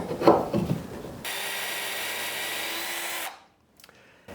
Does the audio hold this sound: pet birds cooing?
no